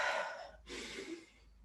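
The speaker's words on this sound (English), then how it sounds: "you're going to be breathing in through the nose," An audible breath drawn in through the nose during a qigong breathing exercise, a close, steady airy inhale of about a second, then a second softer breath after a short pause.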